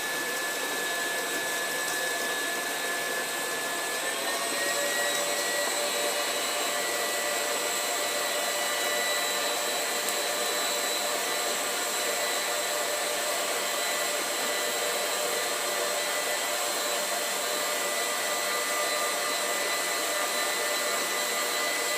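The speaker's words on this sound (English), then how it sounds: "So we're going to give this a quick beating and basically mix to combine until it's a little bit fluffy." An electric mixer beats cookie square batter with a constant high-pitched motor whine that holds unbroken and fairly close throughout, with no voices over it.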